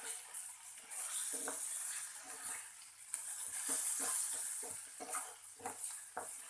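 Spice masala of Kashmiri red chili, coriander and roasted cumin powder fries in a pan on low flame for pointed gourd gravy, giving a soft steady sizzle broken by intermittent spoon scrapes and stirring clatter against the pan.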